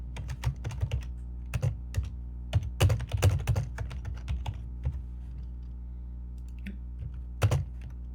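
Light, irregular keystrokes on a computer keyboard while Markdown is typed into a Jupyter Notebook, close and fairly quiet, coming in quick clusters with short pauses and a few sharper taps.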